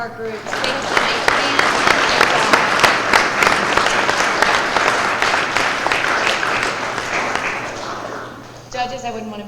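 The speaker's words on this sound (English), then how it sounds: "Guys, can we have a round of applause for all of our groups?" An audience at a university business model competition gives the competing groups a long round of loud, dense applause that holds steady for several seconds, then fades as a voice begins speaking near the end.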